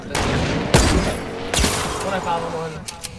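Gunfire in The Division, several sharp loud shots spaced across a few seconds, with distant bursts near the end and a voice talking in between.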